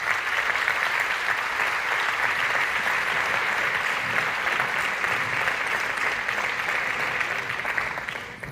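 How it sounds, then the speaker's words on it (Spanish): A lecture audience gives sustained, even applause welcoming Dr. Marcos Gómez Sancho to the stage, a dense steady wash of many hands that holds for several seconds before easing off. "pedimos un aplauso de recibimiento para el doctor Marcos Gómez Sancho"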